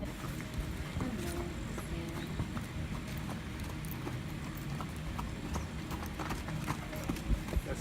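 Horse hooves clip-clopping steadily on hard ground at a walk, close by, with a faint background murmur.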